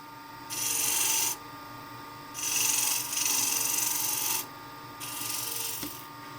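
Rim of an endgrain wooden bowl being shaped on a lathe, a rough rasping tool cut that comes in three loud sustained bursts separated by quieter spinning hum, close and with no talk.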